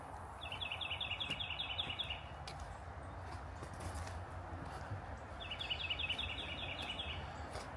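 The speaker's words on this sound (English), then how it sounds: "You can hear the birds chirping." Two bursts of rapid, high-pitched bird chirping, one early and one near the end, over a steady outdoor background with faint footsteps on a hiking trail at Tibet-Butler Nature Preserve.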